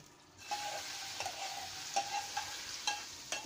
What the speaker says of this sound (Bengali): তো আমার এই ভাজা জিনিসগুলো আমি নিরামিষের উপরে ঠিক এমন করে দিয়ে দিব।